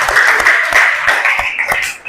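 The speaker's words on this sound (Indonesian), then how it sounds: "beri tepuk tangan" Hands clapping in a classroom-style session, a short, close burst of brisk, moderately loud applause from a small group.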